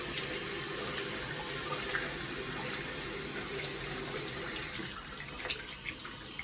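Water runs steadily into a toilet tank refilling after a Brondell Swash 1400 bidet seat installation, a continuous close hiss and rush that stays even throughout and eases slightly near the end.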